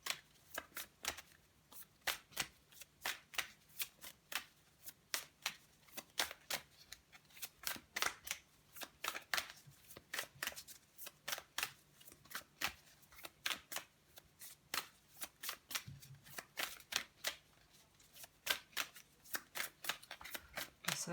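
Oracle cards shuffled by hand in repeated quick riffling bursts over about twenty seconds, soft and close, with faint talk in the background.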